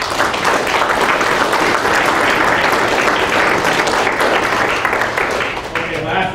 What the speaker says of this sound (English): Please give Nick Wright a round of applause.